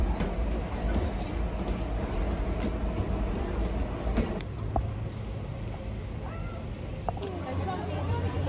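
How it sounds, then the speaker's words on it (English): A DLR light railway train in London rumbles and clatters steadily at close range, with occasional clicks and squeaks over a constant low drone and faint background voices. "On a different train now. This one's called the DLR."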